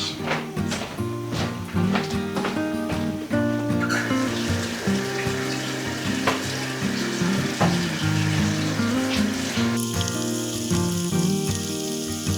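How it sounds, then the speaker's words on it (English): Onions caramelizing in a skillet for a French onion meatloaf: a steady frying sizzle with some scraping and clinking, close and continuous, with no talk over it. "I'm caramelizing my onions to go on top of my meatloaf"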